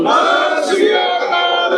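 A crowd at a Shiromani Akali Dal political gathering in Nabha shouts a Sikh jaikara battle cry together, a loud sustained roar of many voices held at near-constant strength from start to finish.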